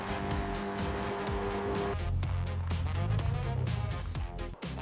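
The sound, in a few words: yellow convertible sports car speeding down a desert highway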